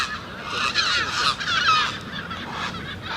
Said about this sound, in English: Oh, these seagulls are chasing this heron.